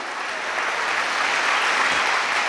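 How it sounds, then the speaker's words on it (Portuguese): A church congregation at a faith convention seminar breaks into strong, sustained applause, a thick, even roar of many hands clapping together that swells slightly toward the end. "Uma grande salva de palmas para Jesus"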